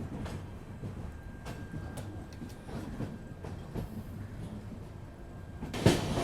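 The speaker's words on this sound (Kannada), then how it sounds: "ತಾಮ್ರಂ ಮಂಗಳೂರು ಎಕ್ಸ್ಪ್ರೆಸ್ ಅರೈವ್ ಆಯ್ತು ನೋಡ್ರಿ." The Thamram–Mangaluru Express pulls into Mangaluru Central station with a steady rolling rumble and rhythmic wheel clacks, close by, ending in a sharp metallic squeal and clank.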